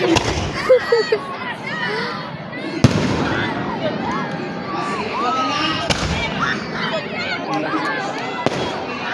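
Fireworks boom and crackle in a dense outdoor display, with sharp bangs standing out, while a crowd murmurs and voices talk throughout.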